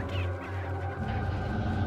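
A chicken clucks steadily and loudly over a low droning soundtrack in Resident Evil 4, with no talking.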